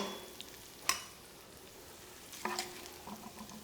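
Sausage meat browns in a pan for a quick sausage ragù, a faint, low sizzle with a few scraping clicks from stirring and one or two louder clatters.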